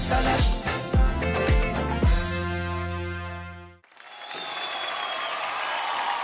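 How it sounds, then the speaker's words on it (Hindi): Stage music winds down and stops, then an audience breaks into steady, full applause with crowd noise at the grand finale of a live performance event. "वाओ, जोरदार ताली हो जाए ग्रैंड फिनाले के लिए।"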